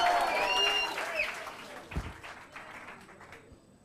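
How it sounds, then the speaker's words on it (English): Audience applause at a business strategy workshop in Bochabelo, Free State, with clapping and a few voices that fade over a few seconds, and a single thump near the middle. "Matsoho, can we give him a round of applause?"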